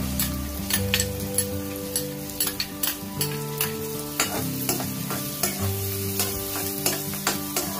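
Chopped onions frying in a pan with a pinch of turmeric, stirred so a spatula scrapes and clicks in frequent sharp strokes over a steady close sizzle, with no talking.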